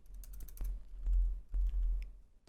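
A few sharp key presses and clicks on a computer keyboard during Photoshop work, close and distinct, with a low background hum and no talk.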